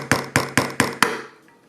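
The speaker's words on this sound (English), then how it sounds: "I'm going to go ahead and hammer it into the back of my cup" Five sharp, evenly spaced hammer blows drive a nail into the back of a cup, with a metallic ring trailing the last strike, close and alone.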